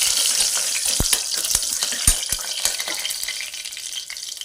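Dry red chillies frying in hot oil with cumin and mustard seeds, a steady bright sizzle broken by several sharp pops and crackles, close and moderately loud, without speech.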